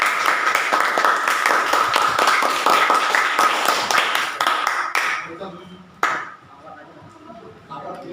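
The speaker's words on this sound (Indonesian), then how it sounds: "Oke, beri tepuk tangan untuk kelompok 1." A school class applauds a student group in a classroom, a busy flurry of many close claps that breaks off, leaving a few stray claps and a voice speaking.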